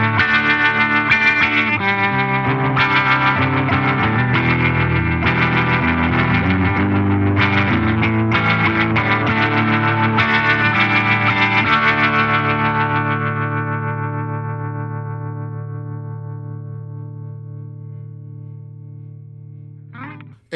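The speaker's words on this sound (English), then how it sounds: "So here's what the Vibr Tone sounds like at default settings." Guitar run through the Fender Tone Master Pro's Vibr Tone rotating speaker effect at default settings, a swirling, warbling stream of chords that rings on and slowly fades out alone over the last several seconds.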